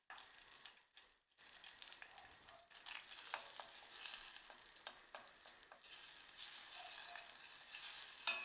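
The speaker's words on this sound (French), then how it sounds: "Là, nous casserole est chaud, nous allons mettre du beurre." Butter melts and sizzles in a hot saucepan as the start of a béchamel for mushroom crêpes, a soft, steady crackle with small scattered pops and a few brief handling sounds.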